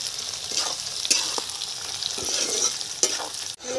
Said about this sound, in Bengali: এবারে দিয়ে দিচ্ছি পেঁয়াজ।